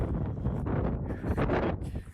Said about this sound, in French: Un beau petit vent.